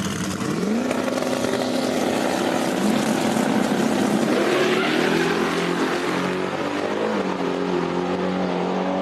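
Small tire drag race cars roar down the strip in a sustained, loud engine drone that rises in pitch as they accelerate, a continuous mechanical howl with no talking.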